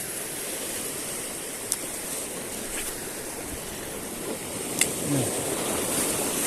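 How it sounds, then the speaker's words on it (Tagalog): Sea waves wash steadily against a rocky shore, a continuous broadband surf rush with a few faint sharper splashes, fairly distant and without talk. "Lakas kasi ng mga alon dito"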